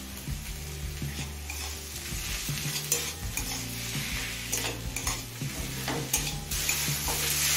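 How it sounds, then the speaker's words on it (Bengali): A large tomato frying over low-medium flame in a pan after onions have browned, a steady loud sizzle with scraping stir strokes and light utensil clinks throughout, no voices. "এবার টমেটো নরম হয়ে আসা পর্যন্ত ভেজে নেব"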